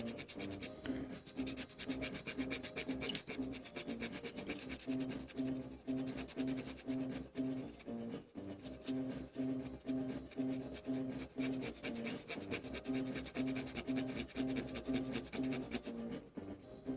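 A Nintendo NES game cartridge, Little Nemo: The Dream Master, gets buffed with quick repetitive back-and-forth rubbing and scratching strokes, close and fairly quiet, in a steady continuous rhythm with a brief pause partway.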